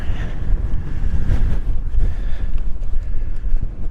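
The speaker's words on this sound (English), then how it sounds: "Aye, it's really, really windy." Strong wind buffets the microphone in loud, gusty low rumbles outdoors by a road, roaring unevenly for a few seconds without speech.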